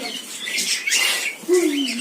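Cockatiels in the cockatiel section of a bird breeding room chirp and whistle in short bursts, close by, ending in a clear rising-falling whistle.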